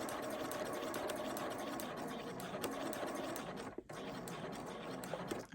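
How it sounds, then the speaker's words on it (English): Sewing machine stitching a curved seam, running steadily and fairly close, with a brief pause near the end. "I'm going to stitch this into position."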